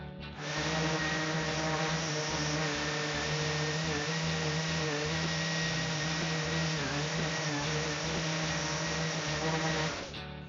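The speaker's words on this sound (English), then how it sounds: "Okay, we sanded the bottom side too." A wooden cookie slab's underside is sanded with 40 grit, giving a continuous, even motorized whir with a low pulsing rumble, steady throughout and stopping near the end.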